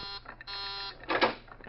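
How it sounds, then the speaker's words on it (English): A warning buzzer sounds with a harsh, steady electronic drone that stops and restarts in short stretches, moderately loud, with a brief rustle near the end. "That's the warning buzzer. It means that someone's coming out."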